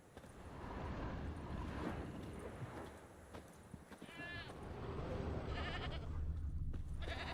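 A goat tied to a stake in The Witcher 3 bleats a few times at moderate distance, with faint hoof clip-clops and ambient game sound around it.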